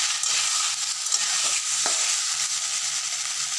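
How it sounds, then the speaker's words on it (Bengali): Boiled potatoes stirred in a frying pan with a spoon, a constant close sizzle with a few soft scraping clicks of the utensil against the pan, no voices. "আমরা সিদ্ধ আলুগুলো দিয়ে দিয়েছি, আর ভালো করে একটু নাড়াচাড়া করে নিচ্ছি।"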